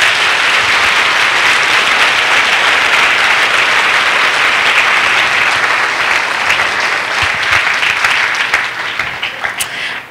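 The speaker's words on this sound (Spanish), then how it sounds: "¿Puede darle un aplauso porque tenemos al mejor Padre?" A church congregation applauding, loud sustained clapping from a large crowd that fills about ten seconds before thinning out and fading at the end.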